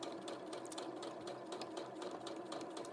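A sewing machine stitches a modern fabric needle case in a studio, a fast steady needle rattle running close and continuous under a quiet room.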